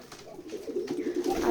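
Pigeons of local and foreign breeds coo on a farm in Beti Khola village, Keshabpur, Jashore, a soft, steady murmur of overlapping calls that swells slightly toward the end, with no voices.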